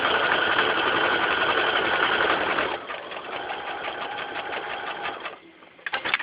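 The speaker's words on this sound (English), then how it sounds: "So you just sew all the way down using that line as your guide." A sewing machine runs steadily, stitching fabric squares along a drawn guide line, its fast even whir lasting the whole time before slowing briefly near the end.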